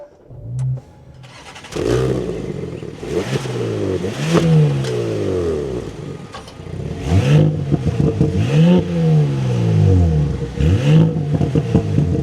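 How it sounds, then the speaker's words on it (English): A 2026 Audi S5 engine cranks and fires, then is revved several times with rising and falling sweeps over a steady idle, loud and close with no talking. "let's start this up and take a listen to how it sounds"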